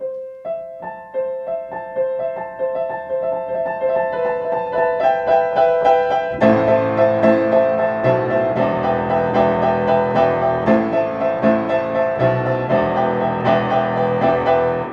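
Piano plays a song, starting with a sparse, slow single-note line that builds until full chords and bass enter around the middle, then continues in a steady, driving repeated rhythm.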